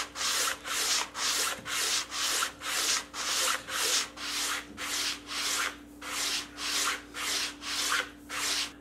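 Sandpaper is rubbed back and forth over a wooden guitar body in steady, even strokes, about two per second, close and clear over a faint background hum with no talking.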